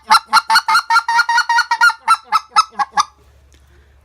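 A specklebelly goose call is blown to imitate a goose sitting on the ground, a loud, rapid series of about a dozen clipped honking notes in steady rhythm that ends abruptly.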